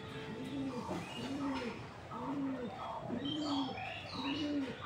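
A pet dove perched on its cage coos five times in a slow, even rhythm, fairly close, with faint higher chirps from other birds in the background.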